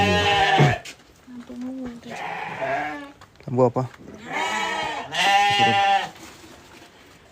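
Merino and Texel cross sheep bleating in a pen, several loud, close, wavering bleats in succession, with a brief spoken question between them.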